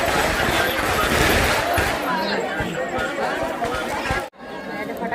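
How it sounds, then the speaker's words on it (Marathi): A large crowd fills the Hudo festival at Kunkeri village with dense, continuous babble of many voices, loud and close throughout, broken by a brief sharp dropout near the end. "मरणाची गर्दी"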